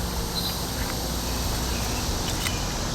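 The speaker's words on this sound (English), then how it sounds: "cicadas" Cicadas fill a summer day with a dense, steady shrill hiss that stays constant throughout, with faint outdoor sounds mixed in.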